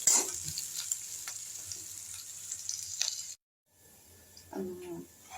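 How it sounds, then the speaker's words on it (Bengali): Onion and green chili fry in a pan with a moderate sizzle and a few clinks. The sizzle cuts off briefly, then quieter kitchen sounds follow. "দিয়ে দিলাম পেঁয়াজ আর লঙ্কাটা"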